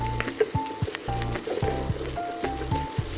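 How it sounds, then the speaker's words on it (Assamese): Fish intestines and semolina fry in a pan with a soft, steady sizzle, broken by repeated scraping knocks of stirring, with no talk. "খুব ভাজিব লাগিব এতিয়া দেই চুজিটো।"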